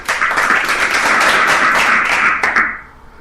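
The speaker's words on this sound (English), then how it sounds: "that was just a few claps" A few scattered claps and taps from a small audience at a political event about a California gas tax ballot measure, a brief thin burst of applause that fades out near the end.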